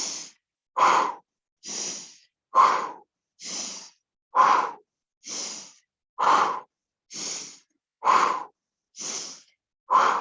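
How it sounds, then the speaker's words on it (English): Rhythmic huff-and-puff pumping breaths during a Pilates swimming mat exercise, a dozen sharp exhalations at a steady pace about one per second, close and alone. "Let's add a pumping breath. It's going to be a huff and puff, get the diaphragm going."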